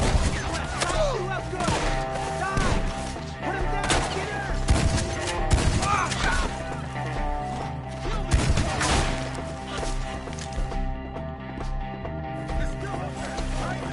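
Gunfire from a shootout in Red Dead Redemption 2: dense bursts of shots and heavy impacts over a steady music bed, with agitated voices shouting across most of the scene.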